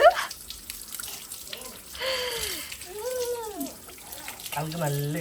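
Water runs from an outdoor tap pipe into a bucket where a small child plays, a trickling, splashing flow heard under people talking nearby.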